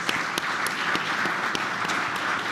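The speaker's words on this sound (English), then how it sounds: "So you can give him a round of applause." A conference audience claps steadily at a live founders' session, a dense even roar of applause with a few sharp individual claps standing out near the listener.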